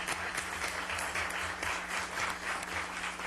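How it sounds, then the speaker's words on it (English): A round of applause at a Newport Beach city council meeting, honoring students: steady clapping from a roomful of people, moderately loud with a low hum underneath. "If we could give them a round of applause."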